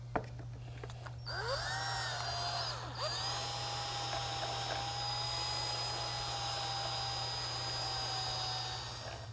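A power drill whirs steadily while mixing P72 garage floor coating, its motor dipping briefly then holding a constant, fairly close whine with faint stirring noise underneath.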